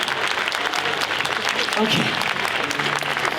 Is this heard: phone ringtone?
no